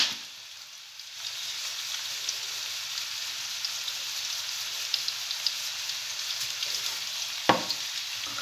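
Potatoes sizzle in oil in a pan, a soft steady crackle that rises after a quiet start and continues evenly, with one brief sharper knock near the end.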